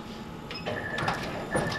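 A multi-head commercial embroidery machine stitching hats starts with a quick mechanical whir and rattle, then a short beep and electronic tones as it stops almost at once.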